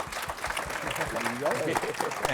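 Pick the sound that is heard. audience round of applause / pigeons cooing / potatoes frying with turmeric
audience round of applause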